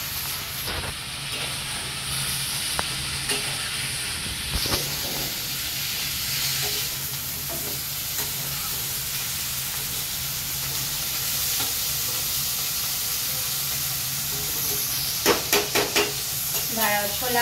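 Potatoes coated in salt and turmeric fry in a hot pan, giving a loud, continuous sizzling hiss with occasional scrapes and clatters of stirring.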